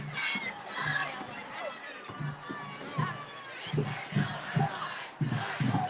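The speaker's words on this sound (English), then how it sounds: "Oh, so the crowd is moving." A protest crowd marching through New York City streets, a steady murmur of many voices with scattered distant shouts and repeated low thumping beats, like drums, in the background.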